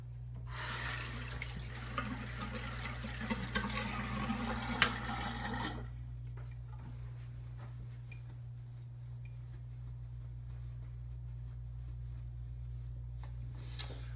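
A bathroom tap runs for a few seconds as something is rinsed under the flowing water, then shuts off, leaving a steady low electrical hum and faint clicks.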